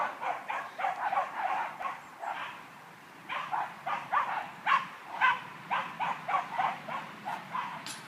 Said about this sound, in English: Even the dogs are celebrating here.